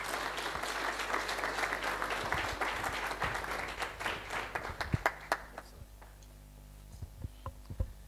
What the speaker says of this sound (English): I would like us to give a good round of applause to particularly Uba Manzini for his sponsorship sake